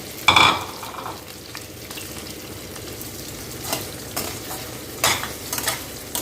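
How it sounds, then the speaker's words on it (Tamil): Paneer frying in oil in a kadai, with a steady sizzle throughout and a few sharp scrapes of a ladle stirring against the metal. "இதில் நம்ம பன்னீரை பொரிச்சு எடுத்துக்கலாம்."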